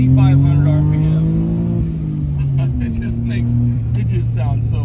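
Inside a 1987 Suzuki Alto Works RS-X, its 550cc turbo three-cylinder drones steadily and then shifts lower as it revs, heard up close under a man's speech.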